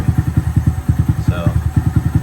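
A Honda Monkey motorcycle engine idles steadily at around 1200 RPM, its low, even thumping pulses repeating rapidly and close by, with a brief faint higher whine partway through.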